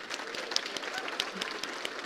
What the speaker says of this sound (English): Let's give Paul Willis a round of applause